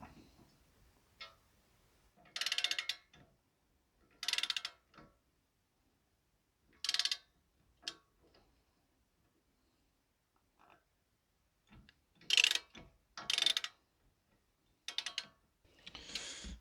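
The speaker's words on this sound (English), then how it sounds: "So let me turn the old camber bolt." Ratchet turning the camber bolt on a Honda Civic FN2 suspension, short bursts of rapid metallic clicking repeated in separate strokes with quiet gaps between, close and crisp.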